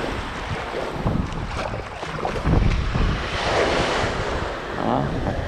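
Sea waves wash onto the beach at Orange Beach, Alabama, a loud continuous surf roar with swelling surges and wind buffeting the microphone, no voices.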